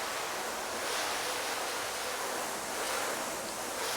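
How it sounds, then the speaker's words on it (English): Water sprays steadily onto a ceramic-coated car body panel, making a continuous, even hiss that swells gently at times, with no voices. "So let's rinse this off, see how it's doing."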